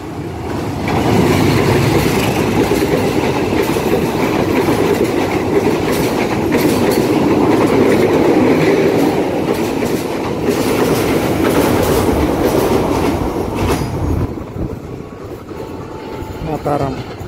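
A train passes through Tambun station with a loud, close, continuous rumble and rhythmic clickety-clack of wheels over rail joints that fades near the end. Voices can be heard faintly in the background.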